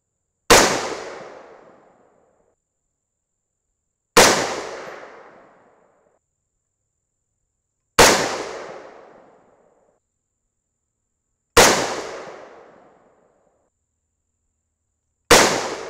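Rifle fitted with a Limbsaver barrel deresonator firing five sharp, loud shots spaced about four seconds apart, each crack trailing off in a short outdoor decay, with no talking.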